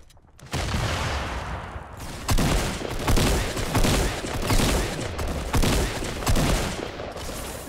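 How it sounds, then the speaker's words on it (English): Heavy gunfire booms in Fortnite, with a sharp blast followed by a dense run of thumping shots and explosions that stay loud and close for several seconds. "Shotgun! Shotgun!"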